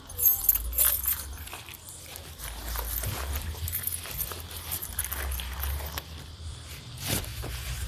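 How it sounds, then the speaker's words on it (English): Metal keys jangle in a few bright, brief clinking bursts, then rattle as they drop, close by and fairly loud over a low background rumble. "My keys are falling down."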